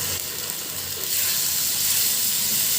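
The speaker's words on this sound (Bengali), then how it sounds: "আমি 1 চামচ আদা রসুন বাটা দিয়ে দিচ্ছি" Ginger garlic paste sizzles and fries in hot oil with browned onions, a steady close hiss that grows slightly louder partway through, with no talking.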